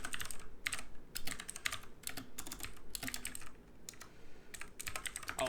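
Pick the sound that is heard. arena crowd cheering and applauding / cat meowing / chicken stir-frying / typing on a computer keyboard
typing on a computer keyboard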